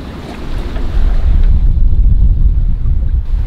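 Wind and crashing waves roar continuously around a sailboat pushing slowly into the wind and sea, a loud, steady low rumble with gusting noise.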